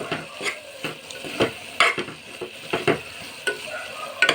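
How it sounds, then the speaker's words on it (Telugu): Masala paste fries in a pan for drumstick curry, with soft sizzling under repeated scraping strokes of a spoon against the pan, spaced about every half second. "ఇలా బాగా మగ్గిన మసాలాలు కాస్త వేగనివ్వాలి"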